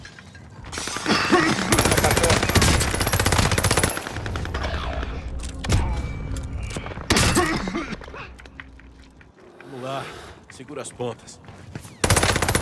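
Rapid, loud automatic gunfire in Call of Duty: Modern Warfare, sustained bursts with brief pauses and a final burst, while a player speaks over the shooting.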